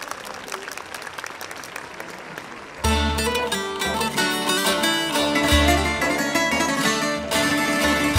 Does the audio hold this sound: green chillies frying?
no